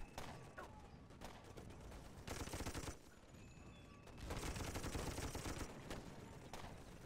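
Gunfire in the Toy Soldiers video game rattles in dense machine-gun bursts, swelling louder in two stretches and easing between them, steady and close throughout.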